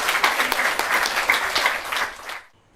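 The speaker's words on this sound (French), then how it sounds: "faire un grand applaudissement pour ces deux étudiantes" Applause from an audience for two students fills the space with dense, steady clapping, then fades out quickly near the end.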